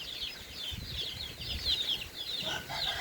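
Chickens cluck and chirp continuously at moderate distance, with some rustling and fluttering of wings mixed in; no voices.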